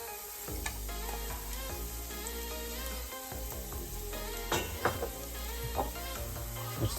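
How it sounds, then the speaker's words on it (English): Chopped garlic frying in a couple of tablespoons of oil for a vegetable jalfrezi, a steady continuous sizzle with occasional louder crackles and stirring clinks, close and alone. "So I'm going to fry this chopped garlic, make it a bit crispy."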